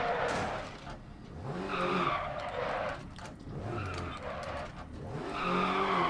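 A rally car in DiRT Rally skids repeatedly under braking. Engine revs rise and fall between long, hissing slides of the tyres on loose gravel, close and loud.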